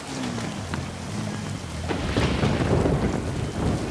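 Thunder rumbles with steady heavy rain in the Dakar 18 rally racing game during a motorcycle stage, a continuous loud downpour swelling into a rolling thunderclap, no voices.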